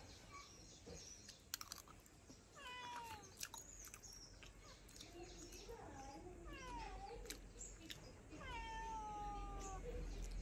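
A cat meows several times in a home kitchen where a jackfruit vegetable dish is being cooked, its rising and falling cries repeated close by over steady background noise, with faint tapping sounds in between.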